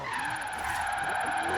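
A station wagon drifts sideways in the Forza Horizon 3 racing game, its tires skidding and squealing in a loud, continuous screech over a steady engine drone.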